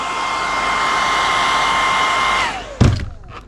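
A hair dryer blows a steady, loud whoosh to heat and soften a vinyl decal for an Arrma Fireteam RC body, then clicks off and winds down, followed by a short thump and rustle.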